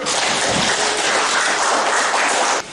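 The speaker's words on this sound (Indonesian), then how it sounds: "Jadi kita tepuk tangan untuk semua" An audience applauding together at a teachers' coaching and academic supervision session, a dense, steady wash of claps that holds loud and even before cutting off near the end.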